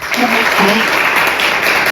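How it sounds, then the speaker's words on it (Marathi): A crowd claps steadily for about two seconds, a dense even patter of applause with faint voices mixed in underneath. "एकदा टाळ्या."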